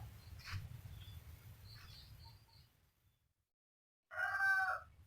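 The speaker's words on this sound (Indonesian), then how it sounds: "backgroundnya suara jago atau ayam jantan berkokok" A rooster crows once, fairly close and clear, near the end, after soft distant bird calls and a low outdoor rumble in a village backyard garden, with a brief hush before the crow.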